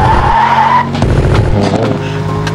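A McLaren 720S drifts in the racing game Assoluto Racing, its tires squealing loudly over a roaring, shifting engine note, close and continuous.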